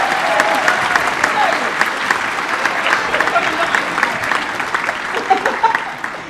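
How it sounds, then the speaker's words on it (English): Audience applause fills a school winter concert hall, a steady, dense clapping that holds at an even level throughout with a few louder bursts near the end. "please give her a massive round of applause"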